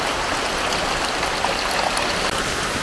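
Heavy rain pours down steadily and close at hand, a dense, unbroken roar of falling water with no pauses from start to end.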